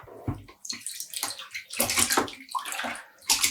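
Skeins of dyed embroidery yarn are rinsed in a basin of water, with repeated splashing, sloshing and dripping bursts that come in uneven waves, close by and fairly loud.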